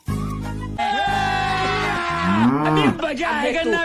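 A buffalo moos loudly and close by in a long, strained bellow that rises and bends in pitch, with no talk over it.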